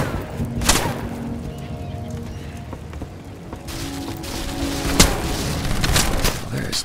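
Intermittent gunfire and heavy booms from a shootout in the video game Wanted: Weapons of Fate, with sharp impacts standing out against a busy, rumbling game soundscape.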